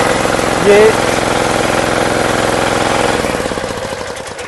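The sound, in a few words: diesel key-start engine of self-propelled reaper starting and running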